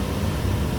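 Low, steady rumble of a car engine nicknamed Ruksis, tested in a long queue of drag racers before a Drag n Chill event, droning continuously with no voices over it.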